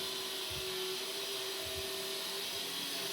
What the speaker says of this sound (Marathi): साधारण जाडसर अशी ही डाळ वाटून घ्यायची